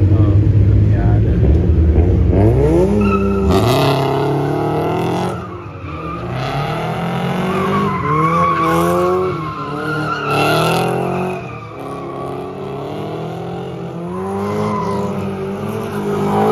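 A Mazda Miata drifts with long, wavering tire squeals and a revving engine rising and falling through several slides, loud and close, with voices talking underneath.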